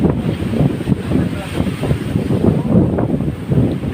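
Strong wind roars past the microphone aboard a ship at sea while big waves wash below, a loud, continuous rushing with gusty buffeting throughout.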